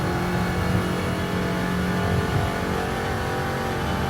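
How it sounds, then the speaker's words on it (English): A small flat-four car engine revs hard and steadily while climbing uphill flat out on a racing circuit, a loud, continuous droning roar with no talking. "that poor little flat four's revving its bananas out"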